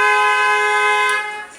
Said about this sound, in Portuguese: É os motoristas aí no meio da rua buzinando